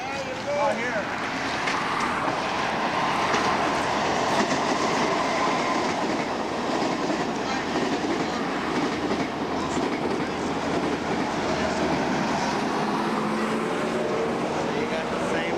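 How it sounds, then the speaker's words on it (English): A train passes by steadily in Poland, a continuous rumble and wheel clatter that lasts throughout and stays fairly loud. "There's a train going by."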